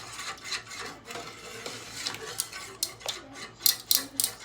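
Food is stirred in a bowl with scraping, rubbing strokes of a utensil against the sides, close and moderately loud, ending with a few sharper clinks.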